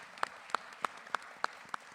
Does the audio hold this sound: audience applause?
yes